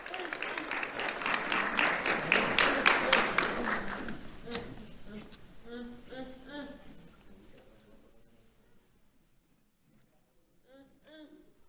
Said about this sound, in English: Let's have a round of applause for Yariel Morales Medina.